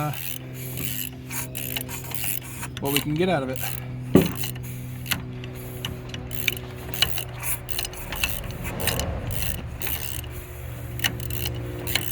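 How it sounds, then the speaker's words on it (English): The small engine of a Yamaha 225DX Tri-Moto three-wheeler turns over mechanically, driven by a drill, with a steady motor hum and clicking, ratcheting noises, and a voice talking briefly. "I'm gonna try and break out a drill here, turn it over,"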